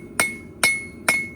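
Three evenly spaced, ringing strikes of a heavy ball peen hammer on metal over an anvil of about 80 pounds, each a sharp metallic clang with a brief ring, close and alone.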